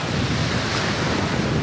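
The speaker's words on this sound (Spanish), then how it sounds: "Miren cómo está el mar." Ocean waves at a beach resort under an overcast sky, a continuous loud roar of surf mixed with wind rushing over the microphone, steady and close without distinct breaks.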